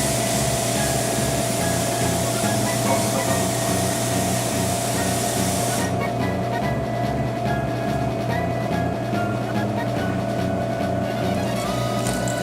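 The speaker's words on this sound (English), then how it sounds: "And run the boba over cold water to let it cool down." Cold tap water runs over freshly cooked boba pearls, a bright steady hiss lasting about six seconds before cutting off, all over a constant low droning hum.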